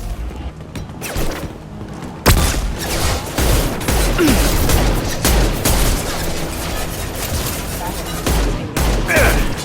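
Heavy gunfire from a firefight in Mass Effect Legendary Edition: dense, loud, overlapping bursts and cracks pound almost nonstop, with voices shouting in the mix.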